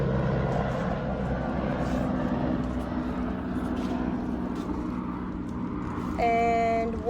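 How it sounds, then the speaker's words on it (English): A propeller airplane passes over a house, a steady loud engine drone that slowly fades, with a brief tonal chirp near the end. "There's an airplane going over my house."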